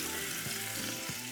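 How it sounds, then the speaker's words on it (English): Bell and Anaheim peppers sizzle in hot oil, a short burst of steady, quiet frying hiss with a couple of soft stirring bumps and no voices. "I love to hear that sizzle."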